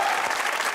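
A studio audience on a Pakistani comedy talk show applauds to welcome an actress guest, a brief, dense burst of clapping heard alone.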